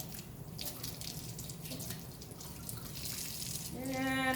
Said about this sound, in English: move those sections around, up and down, so that I can get water moving through those sections